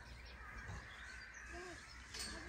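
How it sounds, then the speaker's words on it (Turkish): Birds call outdoors, crow-like caws and a few chirps sounding faint and distant over a steady background hiss. "Hadi 2 dakika bir sussanız da şu kuşların sesini duysam."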